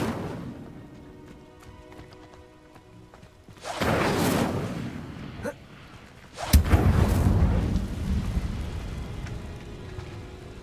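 An Incendio fire spell cast in Hogwarts Legacy, two rushing whooshing blasts of flame, the second sharper and louder, each trailing into a crackling roar over quiet background ambience.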